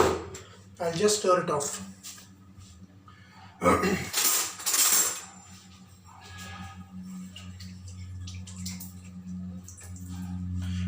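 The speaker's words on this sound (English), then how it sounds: "Again I've taken a spatula, and then I'll just stir it off." A spatula stirs lemon rice in a pan, giving a few scraping, clinking bursts near the start and middle, then fading into quiet kitchen hum; a person talks in between.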